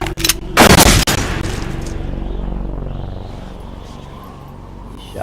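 A single loud, close gunshot in the video game Metal Gear Solid 2, one sharp blast followed by a long reverberant rumble that slowly fades.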